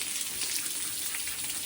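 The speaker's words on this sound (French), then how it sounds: "une bonne douche à l'eau chaude, ça fait du bien" A warm-water shower hosing down a racehorse after beach training, a steady close wash of spraying and splashing water with no voices.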